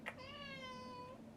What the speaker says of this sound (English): Do you hear my little cat?